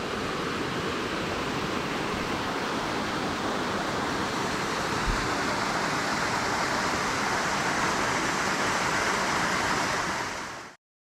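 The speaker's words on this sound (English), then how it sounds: "Tiny little waterfall." Small waterfall in a rainforest gorge in Eungella National Park, a steady dense rush of falling water heard close and continuous, with no break in the roar until it cuts off abruptly at the end.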